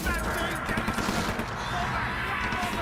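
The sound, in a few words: gunfire and screams from video game Outlast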